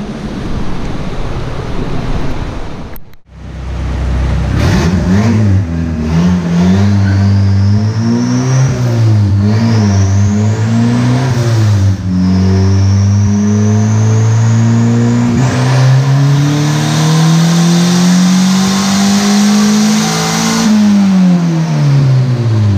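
A 1986 Honda CRX fitted with a turbocharged LS-Vtec engine revs hard on a dyno during tuning, climbing repeatedly through the rev range with a loud, continuous engine drone and short drops between pulls, with no talking.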